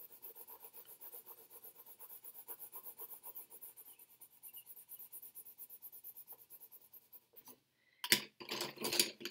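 Crayon being sharpened, a rapid rhythmic rasping scrape repeated many times, soft and close, followed near the end by a couple of louder, sharper scratchy bursts.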